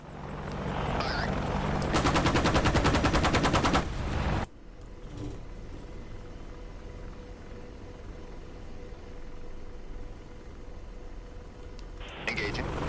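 Rapid machine-gun fire from a combat helicopter simulator set in Helmand, a loud sustained burst of closely spaced shots over the engine rumble, followed by quieter rotor and cockpit hum.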